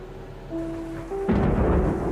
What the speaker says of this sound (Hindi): बारिश की बूंदें खिड़की पर टपक रही थीं।